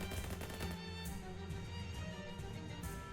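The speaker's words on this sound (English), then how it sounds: "Shoot it." Gunfire in the video game Shadows Over Loathing, a burst of shots over a dense, continuous game soundtrack, fairly close and loud with no talk.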